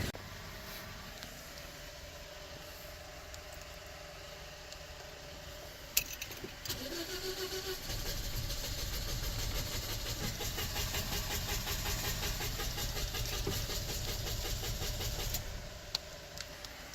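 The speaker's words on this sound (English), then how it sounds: "it doesn't start right now, so it's crank no start right now" A 2009 Toyota Corolla with a crank-no-start fault: after a click, the starter cranks the engine steadily for about eight seconds without it catching, close and moderately loud, then stops.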